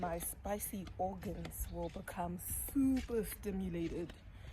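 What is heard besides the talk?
No distinct noise like a dog, phone or traffic.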